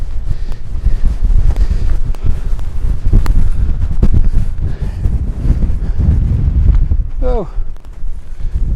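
Strong gusting wind buffets the microphone at a winter wild camping spot, roaring continuously and loud throughout, with a person's brief voice exclamation near the end.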